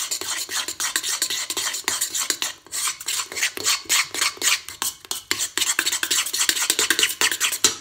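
A spoon stirring sourdough dough for walnut and apple bread in a bowl, quick rhythmic scraping strokes, loud and close, continuing steadily throughout with no talking.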